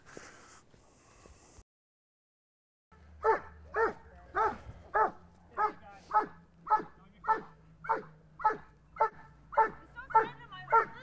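An RCMP police dog gives a rapid series of about fourteen evenly spaced, close, sharp barks mixed with whimpering yips, following a short spoken passage and a brief moment of silence.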